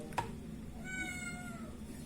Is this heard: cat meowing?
yes